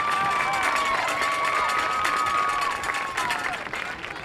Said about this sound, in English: Once again, a round of applause for Casey Dippre.